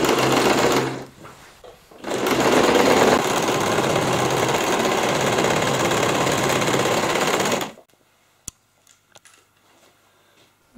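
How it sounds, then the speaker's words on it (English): A sewing machine stitches a half-inch seam with backstitching on a recycled denim jeans handbag, a loud, close, steady whirring run after a brief start and stop, then cutting off to near silence with a few small clicks. "go and sew a half an inch stitch, starting and finishing with a back stitch"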